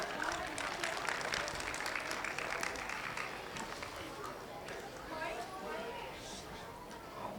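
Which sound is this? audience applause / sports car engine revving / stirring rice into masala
audience applause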